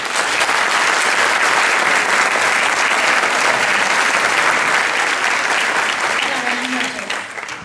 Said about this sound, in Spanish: Un aplauso para Silvia.